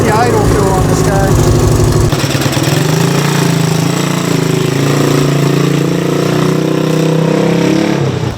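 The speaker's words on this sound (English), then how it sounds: "How's the idle feel on this guy?" An old motorcycle engine, just kick-started, idles loud and close with a steady, throbbing, uneven beat. Voices can be heard under the engine noise.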